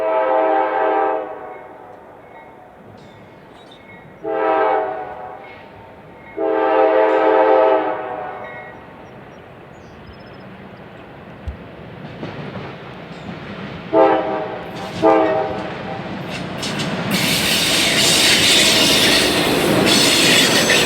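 GE Dash 8 locomotives haul a short 25-car westbound freight on the Chicago Fort Wayne and Eastern, sounding several loud horn blasts, then rolling close by with rumbling wheels, clatter and squeal.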